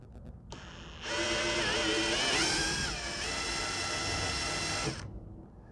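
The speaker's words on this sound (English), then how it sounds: "And now the final 1/4 inch size drill." A power drill with a 1/4 inch bit whirs steadily for several seconds, high-pitched and close, its pitch dipping slightly as it bores through an Aston Martin DB9's bumper, then stops.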